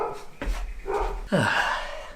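Several puppies barking and yipping in short bursts close by, with a couple of loud sharp barks and whimpery yips in quick succession.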